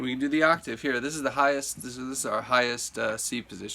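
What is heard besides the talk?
No distinct noise like a dog, phone or traffic.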